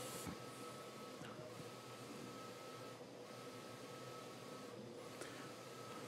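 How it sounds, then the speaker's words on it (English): An eco-solvent large-format printer runs steadily with a broad, continuous mechanical whir. A few faint clicks recur at regular intervals as the carriage travels, and there is no talk. "All right, starting to print."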